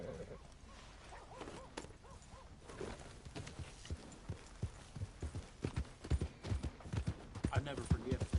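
Horse hooves clip-clop in an uneven rhythm over ambient sound in Red Dead Redemption 2, growing more distinct toward the end, with speech mixed in.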